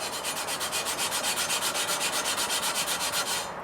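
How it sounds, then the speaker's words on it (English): Steel wool scrubs leftover rust off a cast iron pan in fast, even back-and-forth strokes, a rhythmic, close, gritty rasp repeating about five times a second until it stops abruptly. "There's still a little bit right there. I might be able to hit with some steel wool."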